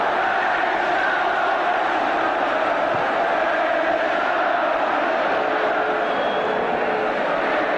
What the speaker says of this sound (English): And just listen to this crowd.